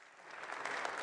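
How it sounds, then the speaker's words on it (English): An audience at a NATO summit gives a short round of applause, with dense clapping that grows slightly louder over about a second. It sounds moderately distant. "Another round of applause."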